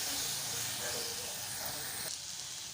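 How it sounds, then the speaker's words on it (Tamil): Grated Indian gooseberry sautés in a pan over a medium flame, giving a steady, fairly quiet hissing sizzle that eases off near the end. "அடுப்பை வந்து மீடியம் ஃப்ளேம்லேயே வச்சுட்டு இதை வந்து நம்ம நல்லா வதக்கிக்கலாம்"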